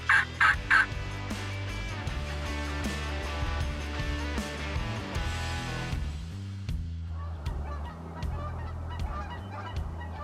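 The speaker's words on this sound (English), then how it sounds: "Birds were gobbling." Several loud gobbles from wild turkeys ring out in quick succession at the start, then a steady dawn chorus of other birds carries on through a spring morning in Montana.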